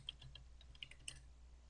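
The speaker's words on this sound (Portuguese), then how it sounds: "Agora digita DiskPart" Soft keystrokes on a computer keyboard as a command is typed at a PC, a quick irregular run of light taps, close and fairly quiet, with no one speaking.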